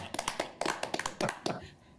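A burst of hand clapping from a small group at a city council workshop, quick uneven claps that trail off toward the end.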